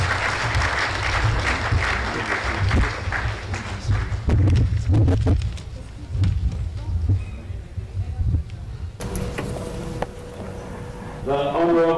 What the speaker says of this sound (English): Let's continue clapping for him until he reaches here.